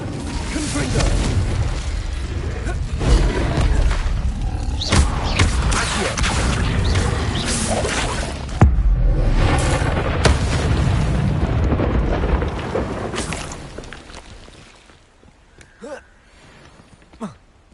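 Fiery Confringo spell blasts in Hogwarts Legacy, loud booming bursts layered over dense game effects and music, fading quieter toward the end, with a voice casting.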